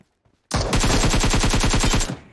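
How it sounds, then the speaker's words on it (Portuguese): Automatic rifle fire in the PUBG Mobile shooter game on a phone, a loud rapid burst of evenly spaced shots lasting about a second and a half, starting abruptly after near silence. "já comecei a pegar um tiro"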